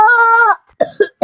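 A few short, rough coughs from an older person come in quick succession, close and loud, right after a sustained tonal sound.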